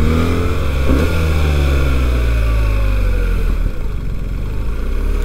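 BMW 1300 GS Enduro motorcycle engine pulling hard under acceleration on the road, a loud continuous drone with rising pitch sweeps, steady and close throughout with no talk.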